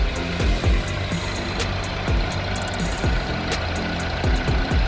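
A Honda 2.0L i-VTEC car engine idles at around 700 rpm with an ethanol conversion box fitted, a steady close-up mechanical hum broken by faint ticking and light knocking pulses, with no voices.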